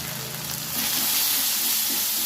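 Ground spices, including coriander and turmeric powder, fry in a hot pan with a loud, continuous sizzle and hiss. Soft stirring scrapes sound close by, and the frying grows slightly louder partway through.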